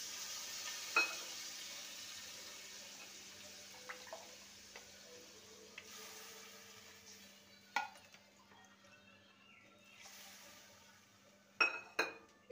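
Water poured into spice paste that has been fried down for a potato, brinjal and bori curry gives a low, steady sizzle, with a few sharp clinks of a utensil against the pan. No one speaks.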